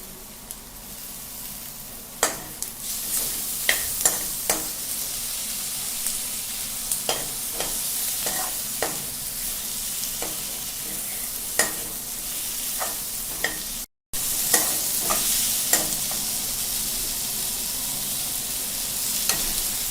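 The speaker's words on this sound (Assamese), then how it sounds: "এতিয়া ইয়াত কাটি থোৱা বিলাহীখিনি মিলাই দিম" Ginger, garlic and onion sizzle steadily in a pan as chopped tomatoes are stirred in for a Kabuli chickpea ghugni, with a constant hiss broken by sharp, repeated scrapes and knocks of the spoon.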